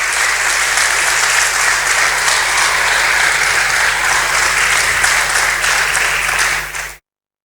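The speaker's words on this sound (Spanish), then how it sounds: "Le damos un aplauso al Señor" A church congregation applauds during a service, giving a loud, dense, continuous round of clapping from many people that lasts about seven seconds and then cuts off abruptly.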